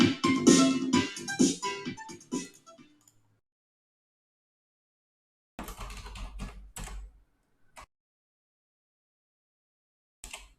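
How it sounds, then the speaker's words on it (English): Typing on a computer keyboard comes in quick bursts of clicking key taps, close and fairly clear. Silent gaps separate the bursts, and a few more scattered keystrokes follow. "I'm typing in."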